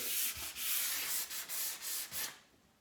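Light sanding of a hand-painted kitchen surface: about eight steady back-and-forth scrubbing strokes, close and fairly loud, a dry gritty rasp that stops near the end with no talking.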